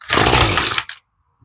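Small gas engine of a Poulan hedge trimmer roaring loudly for under a second, then cutting out abruptly into near silence.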